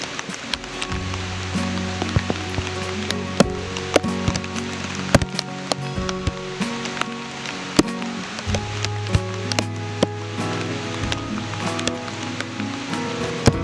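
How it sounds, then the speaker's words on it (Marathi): Steady, dense rain pours throughout, with sharp drips and splashes striking nearby surfaces and a low rumble underneath; no voices. "केवढा पाऊस"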